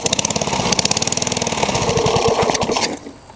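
A lawn mower engine runs roughly with a gargling, sputtering throb, loud and close, then falls off sharply near the end.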